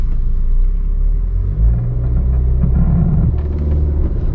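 A 2021 Maruti Suzuki S-Cross BS6 car driving in two-wheel drive mode gives a loud, steady interior engine rumble with a brief bump, then the engine note rises and climbs as it accelerates.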